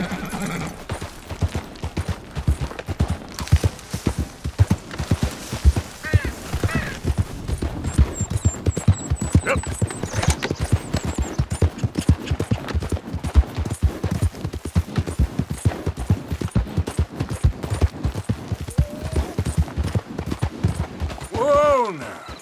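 Horse hooves galloping in Red Dead Redemption 2, a steady rapid clatter running throughout alongside whinnies, with occasional distant gunfire and a voice speaking briefly.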